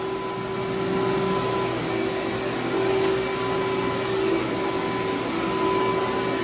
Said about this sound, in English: It's very important to dry vacuum every carpet that you clean if possible